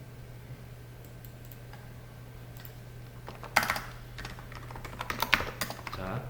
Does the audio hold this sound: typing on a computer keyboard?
yes